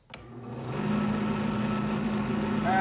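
A drill press motor clicks on and spins a sanding drum up to a steady, even whir that holds at maximum speed, running close by with no talking.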